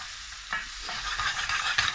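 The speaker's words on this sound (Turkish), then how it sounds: "Pirincini attım. Hepsini beraber kavuruyorum." Rice, leek and tomato paste sauté together in a pan with olive oil, giving a steady close sizzle broken by scraping stirs. No one speaks.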